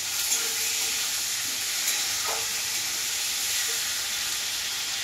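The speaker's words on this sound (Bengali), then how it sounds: "চিকেনটা কিছুক্ষণ ভাজবো।" A steady, close sizzle of chicken frying in oil in a pan, with faint stirring scrapes and a continuous crackling hiss, no voices.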